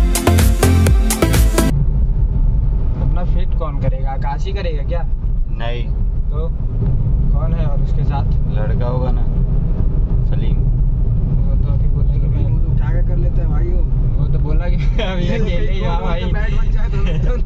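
A 2022 Maruti Swift Dzire Zxi cruises at about 60 km/h, its steady engine and road rumble droning underneath continuous conversation inside the cabin.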